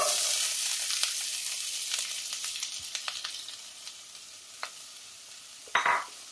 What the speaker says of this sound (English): We're going to put our onions in.